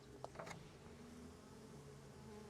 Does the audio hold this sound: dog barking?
no